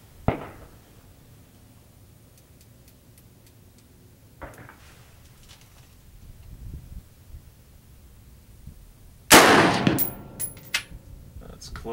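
AR15 rifle with a 16-inch bull barrel fired at a target, a few sharp, loud isolated shots spaced seconds apart, the last one followed by brief clatter and a faint voice.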